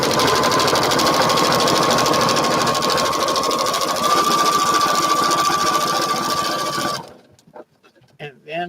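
A sewing machine stitches a quilt in a steady, loud, fast mechanical whir that runs continuously for about seven seconds, then stops abruptly, leaving a few soft handling sounds.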